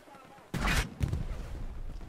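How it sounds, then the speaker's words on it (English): A tank in the WWII shooter Hell Let Loose lets off a sudden loud blast followed by a second boom, with a rumbling tail fading into battlefield noise. "That's a tank, alright."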